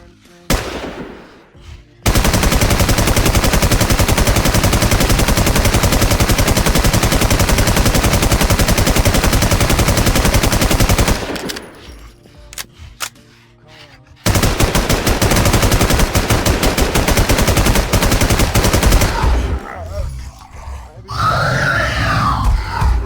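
Sustained automatic gunfire rips out in long rapid bursts while shooting monsters in the video game WarZ, loud and dense, broken by a short quieter gap and ending with scattered game noises.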